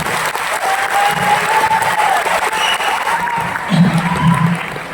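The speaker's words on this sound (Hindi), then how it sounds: "एक जोड़ा तालियां के लिए।" Audience applause at a training seminar in Kolkata, a steady broadband wash of clapping that holds for the whole stretch, with a faint tone and some crowd murmur underneath.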